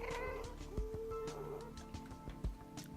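A cat meows in a video game session, several short cries over steady background game sounds and music, with a few sharp thumps.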